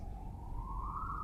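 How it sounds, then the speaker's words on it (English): A police siren passes outside, a single rising wail heard from a distance, steady and fairly faint beneath a low background rumble, with no one speaking. "Sorry about that siren."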